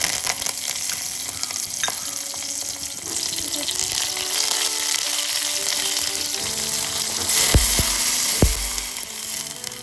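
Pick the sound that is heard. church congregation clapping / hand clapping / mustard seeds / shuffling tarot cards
mustard seeds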